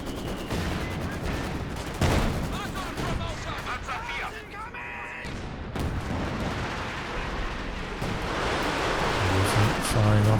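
Artillery fires in a 3v3 Company of Heroes 2 match on a forest map, with dense rumbling blasts and crackling bursts that form a continuous loud wash of battle noise, punctuated by sharper impacts.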